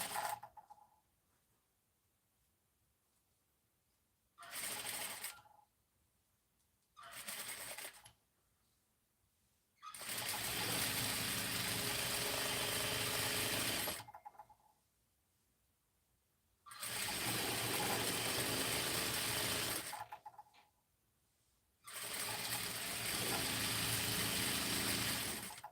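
A sewing machine runs in separate bursts as an item is sewn: a few short runs, then longer stretches of steady whirring, each separated by quiet pauses.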